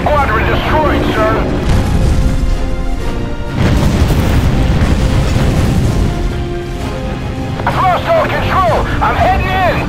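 Loud, dense booms and rumbling blasts from naval and air combat in the video game Battlestations: Pacific roll on continuously, with voices talking over the din.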